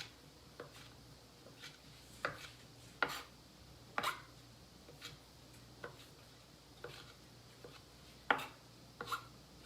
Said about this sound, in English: And we can just chop that up just to make it a little more bite size.